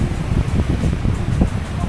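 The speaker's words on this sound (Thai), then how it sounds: "ลมแรงมาก" Strong wind gusts at the seaside at Khao Lak, Thailand, over a rough sea, making a loud, continuous buffeting rumble with no break.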